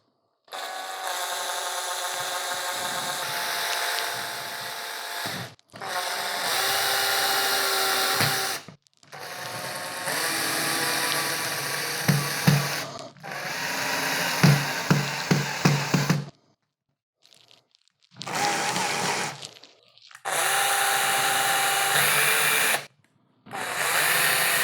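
A power drill drives a screw through a metal bracket into a book in several separate bursts, some slow and some longer, with pauses and a few clicks between runs.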